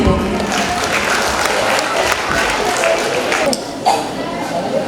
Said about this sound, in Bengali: তার জন্য একটা হাততালি চেয়ে নেব।